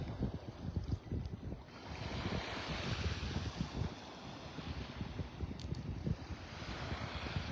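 Wind gusting at a beach in North Naples, Florida, a loud, steady roar of buffeting across the microphone with surf washing underneath, no voices.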